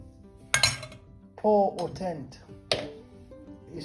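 A metal tablespoon clinks against a glass jar in a home kitchen while grape juice is being preserved, giving a few sharp, bright knocks spaced apart, with a person talking between them.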